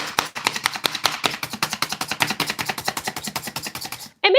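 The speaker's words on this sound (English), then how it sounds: "We're gonna go in and chop this purple onion" Purple onion chopped fast on a cutting board with a knife, a rapid steady run of close, crisp taps that continues for several seconds and then stops.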